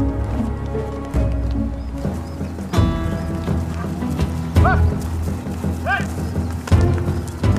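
Steady clip-clop of horses' hooves on a hard surface, with a couple of whinnies partway through and some rustling in the background.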